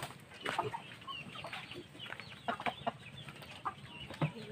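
Chickens roaming loose on a farm where pigs are fed cluck and peep in scattered, soft calls over a busy outdoor background, several birds close by with others farther off.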